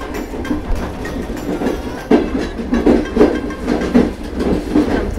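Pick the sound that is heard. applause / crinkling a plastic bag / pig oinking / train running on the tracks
train running on the tracks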